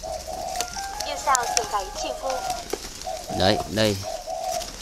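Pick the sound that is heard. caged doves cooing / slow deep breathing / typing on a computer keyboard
caged doves cooing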